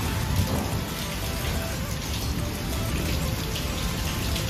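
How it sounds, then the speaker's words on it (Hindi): Heavy rain pours steadily near a construction site, a dense continuous hiss and patter of drops on surfaces with no clear break; hail is not distinctly audible in the downpour. "मैं आपको दिखाती हूँ कितनी तेज़ बारिश हो रही है।"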